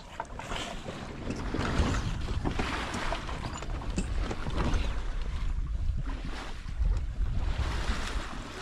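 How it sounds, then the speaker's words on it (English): Sails on a sailboat flog and flap in weak wind in the southeast trades, a steady rustle of canvas mixed with wind and water wash around the hull, close and continuous with no talk. "So the sails are just flogging, which I don't like."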